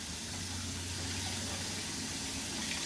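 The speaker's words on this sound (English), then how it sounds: "Let me wash my hands, and I'm gonna turn the camera back around" Hot water runs from a kitchen sink tap as hands are washed with soap, a steady, faint, even rush of water with no talking.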